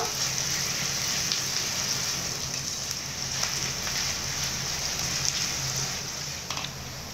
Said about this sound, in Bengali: একটু ভালো করে লাল লাল করে ভেজে নেব।